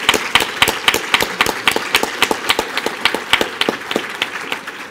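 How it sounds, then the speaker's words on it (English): A conference audience of justice professionals gives a standing round of applause, a full, even burst of many hands clapping close and loud, tapering slightly at the end. "to stand for a big round of applause to all of you"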